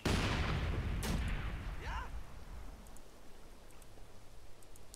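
A heavy mortar blast rumbles at the start, followed by distant booms and crackling gunfire in a Company of Heroes 2 battle, with a brief whistling sweep.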